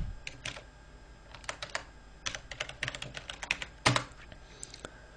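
Typing on a computer keyboard comes in quick bursts of close clicky keystrokes, with a few short pauses and a louder press near the end.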